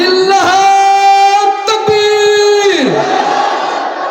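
A large crowd at an Islamic religious gathering answers a takbir call with a loud, unison chanted shout held for about three seconds, then tailing off into a softer murmur.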